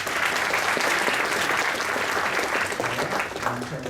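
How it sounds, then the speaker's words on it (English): Sustained audience applause fills an awards ceremony hall, a dense steady clatter of many hands clapping close by, with some voices mixed in under the clapping throughout. "So give yourselves another round of applause."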